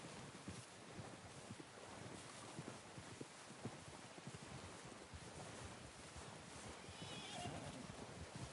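A horse in Red Dead Redemption 2 neighs and whinnies over a constant bed of outdoor wind noise, with soft shuffling steps close by.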